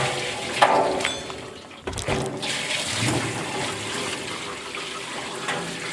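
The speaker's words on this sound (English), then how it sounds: "First, we need to get this halfway filled up with water." Water running into a chicken scalder set up for butchering pasture-raised chickens, a steady rushing, splashing pour that surges after a brief lull and continues evenly, close by.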